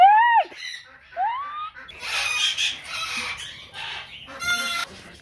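A hen squawks and clucks in loud, rising calls after laying an egg, then a stretch of busy rustling and scuffling with more short clucks near the end.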